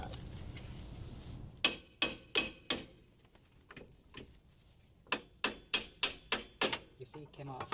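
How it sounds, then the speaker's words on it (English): Sharp metallic hammer taps strike a car's lower control arm on a Saturn. A quick group of four comes first, then a steadier run of about eight, fairly close and crisp. "You may want to tap the control arm with a hammer."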